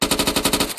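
Sustained full-auto machine gun fire in Arma 3, about eight evenly spaced loud shots in under a second, close and continuous with no voices.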